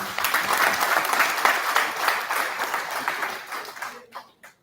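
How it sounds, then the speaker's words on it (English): A startup summit audience applauds an investor introduction with loud, dense clapping that stays steady, then thins into a few scattered claps and fades out near the end. "So give a big round of applause"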